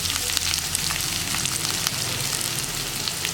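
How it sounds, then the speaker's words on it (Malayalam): Sliced onions and green chilies fry with garlic in a pan for a tomato roast, giving a loud, steady, close sizzle with soft crackles throughout. "നമുക്കിതിലേക്ക് കട്ട് ചെയ്ത് വെച്ചിരിക്കുന്ന സവോളയും പച്ചമുളകും ചേർക്കാം."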